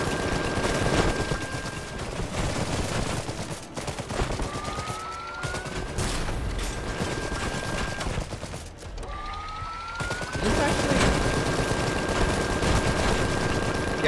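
Iron Harvest battle with enemy gunfire crackling continuously at moderate level, mixed with dense battle noise and rising whining tones that glide upward, and no speech.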